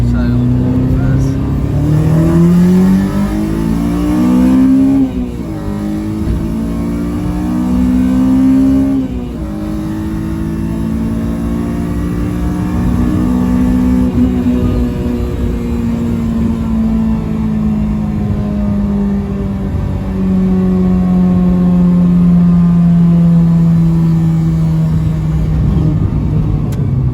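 A Honda Civic K20Z1 engine drones loudly through a 3-inch exhaust and revs up and down repeatedly, with a deep rumbling exhaust tone that rises and falls in pitch.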